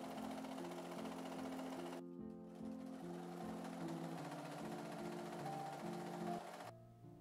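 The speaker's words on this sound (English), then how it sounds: "I attached all 6 pieces to each other with my sewing machine" Domestic sewing machine stitching non-stretchy fabric panels together for a child's dress, running in a steady mechanical whir with brief stops and restarts, close and fairly quiet, with no talking.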